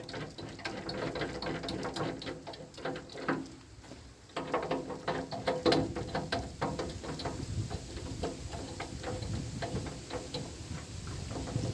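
A part of a bar dishwasher being unscrewed by hand, with close ratcheting clicks, small metallic rattles and handling knocks in an uneven rhythm, and no talking.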